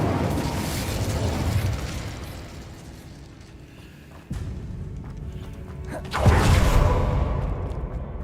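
The Incendio fire spell is cast in the video game Hogwarts Legacy, giving a roaring, whooshing burst. A sudden sharp blast comes midway, and a louder fiery surge follows near the end over a rumbling game background.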